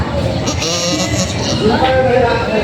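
A goat giving birth in a parking area in Padre Garcia, Batangas, gives a short bleat. Loud talking and crowd noise nearly drown it out.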